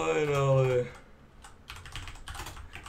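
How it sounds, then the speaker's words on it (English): A computer keyboard being typed on during a Minecraft PvP match, a soft scatter of clicky keystrokes that comes in after a brief burst of game sound and keeps a quick, uneven rhythm. "I'm really bad at typing"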